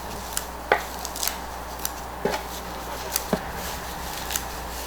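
Sphagnum moss being snipped finely with scissors during repotting of a Korean hornbeam bonsai, a few sparse crisp cuts spaced irregularly, close and fairly quiet over a low steady background hum.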